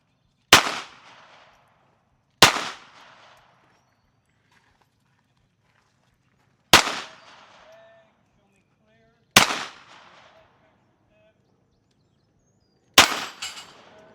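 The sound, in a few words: Glock pistol gunshots at a shooting match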